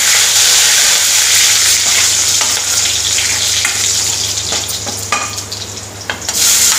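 Curry leaves and onion frying in hot oil, a loud, steady sizzle and crackle running throughout, with brief spits and scraping stirs near the end.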